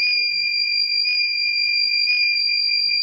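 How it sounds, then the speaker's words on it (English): A transformer over-temperature monitor's buzzer alarm sounds as a steady, loud electronic tone, continuous and unbroken throughout, with no talk. "When temperature drops below 35, then only the buzzer will get off."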